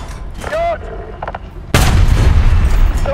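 A tank cannon fires in War Thunder: a single sudden, loud boom lands partway through after quieter game sounds and a short tonal beep, then a rumbling, roaring tail fills the rest.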